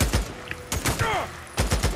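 Gunfire in the video game Days Gone, a run of sharp close shots in uneven bursts with echoing tails and game effects in between.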